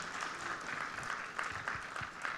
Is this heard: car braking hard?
no